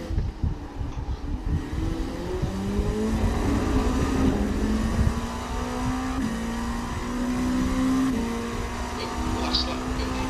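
Race car engine lapping Spa in a racing video game, a loud sustained drone whose pitch climbs steadily through long gear pulls with brief shift dips, close and continuous throughout.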